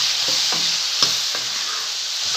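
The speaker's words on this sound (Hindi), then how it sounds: "मिर्ची पाउडर धनिया पाउडर डालेंगे सबसे पहले, इसको मिक्स कर लेंगे मसाले में।" Chili powder and coriander powder stirred into onion masala frying in a pan, giving a continuous loud sizzle with a few soft scraping strokes of the spoon.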